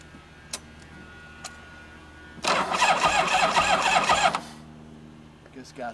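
A 1983 Harley-Davidson FXRT Shovelhead motorcycle cranks over for about two seconds with a loud, steady churning but does not fire, set between quieter ticks and clicks before and after.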